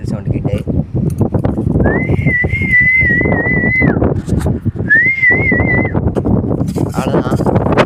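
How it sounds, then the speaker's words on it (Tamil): Sharp, melodic whistling calls animals out at feeding time, two long warbling phrases and a brief third, over a busy background of rustling and movement with voices nearby. "ஒருத்தர் வந்துருக்கான் விசில் சவுண்டு கேட்டு."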